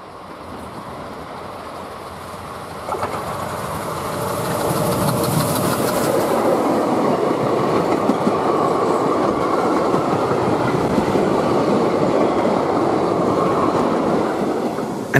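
A train on a Danish rail tour toward Helsingør runs along the tracks, a loud steady rumble with rhythmic clickety-clack of wheels growing fuller after a few seconds, with no talk.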